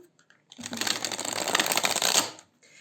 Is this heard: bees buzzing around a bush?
no